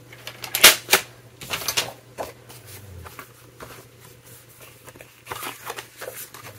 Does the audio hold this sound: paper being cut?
yes